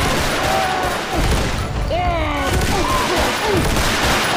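Gunfire in the zombie shooter Left 4 Dead 2 during a competitive tournament match, bursts of rapid shots under excited game-character voices and calls, loud and busy throughout.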